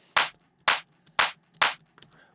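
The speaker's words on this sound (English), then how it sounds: "So a more modern clap would sound like this here" Four evenly spaced, sharp clap hits from a modern, less aggressive clap sample in a 2000s UK hardcore drum setting, each a bright burst with a short tail, loud and alone with brief gaps between.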